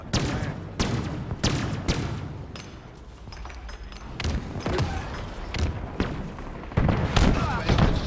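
Rocket explosions and gunfire in a Halo-style Fiesta multiplayer match crack and boom repeatedly in sharp bursts at irregular intervals, some loud and close, mixed with player chatter.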